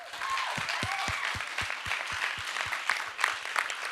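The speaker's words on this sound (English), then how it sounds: "give them a big round of applause" Applause from an event audience in a studio space at a ribbon cutting, honoring the staff who hung the lights, a steady wash of clapping with a regular thumping beat underneath, moderately loud and continuous.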